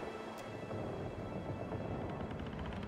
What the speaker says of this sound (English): Storm rages on, showing no sign of subsiding.